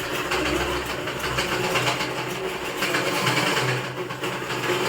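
A sewing machine stitches the side seam of a churidar in a steady, continuous mechanical whir with a low hum underneath, close and fairly loud throughout, with no talking.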